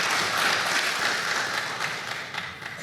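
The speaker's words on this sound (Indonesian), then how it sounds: "Kita berikan aplaus buat perseroan." Applause for the company at an Indonesian stock exchange IPO ceremony, a dense, even wash of many hands clapping from a sizable room that tapers slightly toward the end.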